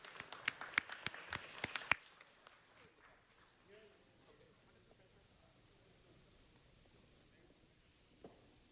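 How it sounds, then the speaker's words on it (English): Applause from the audience at a city council meeting, a burst of clapping in the first two seconds that quickly fades to low room noise, with a faint thump near the end. "Let's give another big round of applause."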